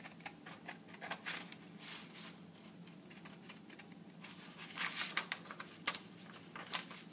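Close, quiet snipping and rustling of scissors cutting through paper in irregular bursts, growing busier toward the end.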